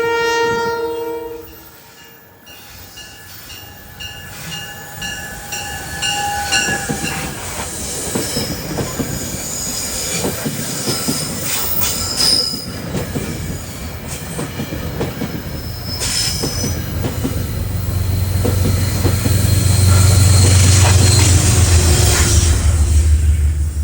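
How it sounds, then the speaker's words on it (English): Metro-North M3A commuter train bound for Croton-Harmon in New York City sounds its horn early on, then rolls past with a steady rumble, wheel squeal and growing clatter that swells loudest toward the end; no one speaks. "Here's train 745 for Croton Harmon with M3As, 427."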